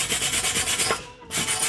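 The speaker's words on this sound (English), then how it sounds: "Hit it with the brush real quick." A brush scrubs a freshly made weld in quick, rhythmic back-and-forth strokes, loud and close, with one short pause mid-way and no talking.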